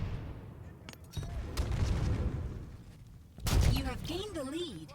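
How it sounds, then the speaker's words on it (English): A sniper rifle firing in Halo 5, one heavy booming shot followed by a second loud blast and ringing game effects, with some voice audible between. "or the gravelly bang of the sniper rifle"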